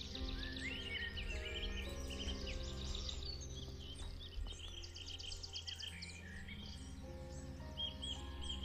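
Birds chirping and calling over a steady ambient hum in the Baphomets Fluch 4 adventure game where pigeons have gathered, a continuous faint mix of tweets and calls with no talk.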